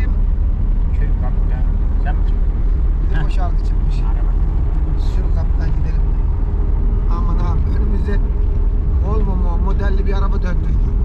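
A car drives with a constant low engine and road rumble that fills the whole stretch, while people talk inside over it.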